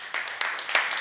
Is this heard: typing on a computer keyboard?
no